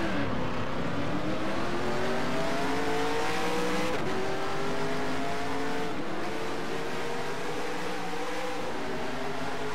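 Race car engine in NR2003 at Watkins Glen just after a wreck, a steady loud drone whose pitch slowly climbs, dips and climbs again as the car revs, with a faint tire squeal and no talk.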